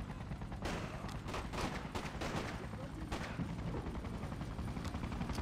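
Gunfire crackles at soldiers in the Freedom Fighters video game. Bursts of shots fire in irregular clusters against a dense, noisy combat background, fairly faint overall, with voices speaking.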